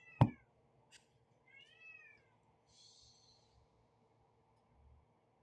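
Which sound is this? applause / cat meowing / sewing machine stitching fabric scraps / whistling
cat meowing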